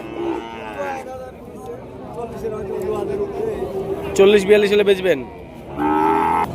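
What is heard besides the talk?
cattle mooing at a cattle market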